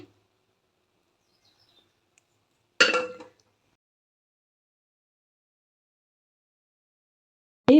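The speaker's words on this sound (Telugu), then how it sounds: "ఇప్పుడు మూత పెట్టేస్తాను" A lid set onto a pot of vegetable little-millet khichdi gives one brief clinking clatter, close and fairly loud, surrounded by near silence, with another short knock at the very end.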